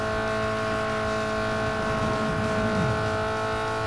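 Car engine in Need for Speed Underground 2 droning steadily at high revs, with a slight rise in pitch as it pulls back up and accelerates, loud and continuous with no talk.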